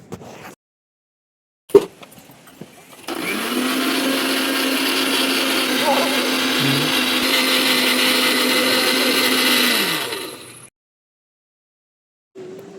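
A mixer grinder grinds spices and cumin into masala at home, a loud whirring drone that starts abruptly, runs steadily for about seven seconds and stops, framed by brief clicks and clatter.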